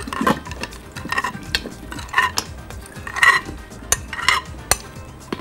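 Fava bean salad with grapes, parsley and almonds being spooned into a serving dish, with soft scraping and light clinks of utensils against the dish in irregular bursts, close up and with no talk.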